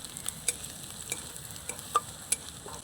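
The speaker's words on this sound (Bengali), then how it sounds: "অল্প একটু হিং দিয়ে দিচ্ছি নাড়িয়ে মিশিয়ে নেব" A pinch of asafoetida stirred in a frying pan, soft sizzling under several distinct clacks of a utensil against the pan, spaced about half a second apart and fairly faint.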